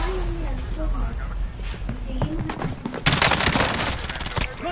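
Video-game gunfire crackles in bursts of sharp shots, building to a heavy, rapid fusillade near the end, while voices talk and shout over it.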